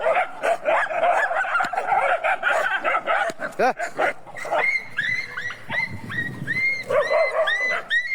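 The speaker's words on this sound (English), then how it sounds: "you heard that yelp at the end there" A dog barks and yelps repeatedly during dominance-style training, the sounds loud and close and coming in irregular bursts, with higher-pitched yelping cries toward the end.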